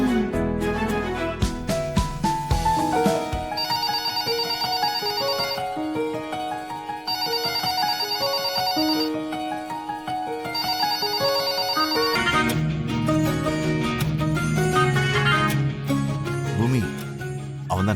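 A telephone ringtone plays a repeating melodic tone pattern for several seconds, loud and up close over background music.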